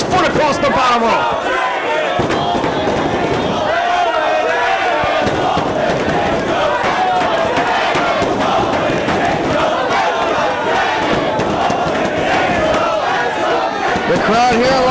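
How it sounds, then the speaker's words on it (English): A wrestling crowd on Long Island roars and chants without a break through a live professional match, loud and close, with a commentator talking over it. "The crowd here at Long Island giving Christopher Daniels the energy he needs to keep going."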